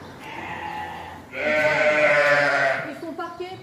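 Goats kept from last year bleat in a pen on a goat farm: one long, loud, wavering bleat close by, with fainter calls before and after it.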